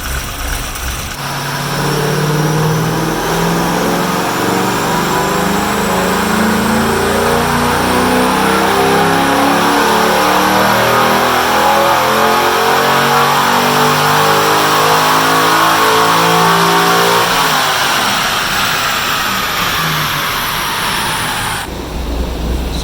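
A Corvette C5 Z06 with new springs and low timing revs hard and climbs steadily in pitch at full throttle for about twenty seconds, loud and close, then cuts off abruptly.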